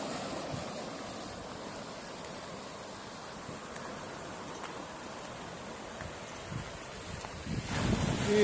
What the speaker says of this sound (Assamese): মাজে মাজে বহুত ডাঙৰ ঢৌ আহে